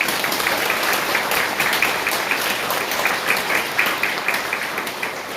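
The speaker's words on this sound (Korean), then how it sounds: "연대와 사랑의 박수 한번 부탁드리겠습니다." Congregation applause at a Catholic memorial mass for victims of the Itaewon crowd disaster, held in a Seoul education hall: steady, full, sustained clapping from many people, fairly close and even throughout, without any speech over it.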